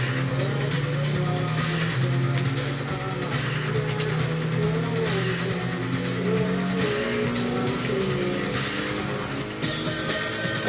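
Racing car engine from a video game run on Batocera Linux on a Raspberry Pi 4, droning loudly and steadily with pitch shifts as the gears change down, alone throughout.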